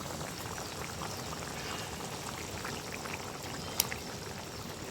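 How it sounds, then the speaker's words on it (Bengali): Water comes to a boil in a pot for a tangy small-fish curry, giving a soft, steady bubbling and rolling murmur at low level with one brief sharp click near the end. "পানিগুলা ফুটছে।"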